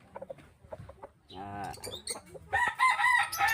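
A fighting rooster gives short clucks, then a brief, nearby crow-like call. People chatter around it, and the sound stays fairly quiet overall.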